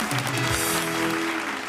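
Studio audience applause at a televised poetry and comedy show, a steady clapping wash mixed with sustained musical tones and a brief descending swoop, holding fairly even throughout.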